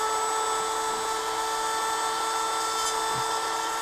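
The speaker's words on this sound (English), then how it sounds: "just kind of the edge of the Dremel to fill a gap in the middle" A Dremel rotary tool grinds a rock pattern into a Swiss Army knife with a steady, close, high-pitched whine that holds unbroken throughout.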